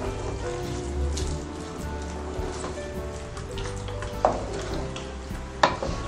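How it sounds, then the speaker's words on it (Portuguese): Coconut milk stirred into a crab filling mixture in a pot, a continuous wet, sloshing, sizzle-like texture at steady level with a couple of sharp clinks from the utensil, no talking. "mexe bem para misturar bem o leite de coco para formar essa massa"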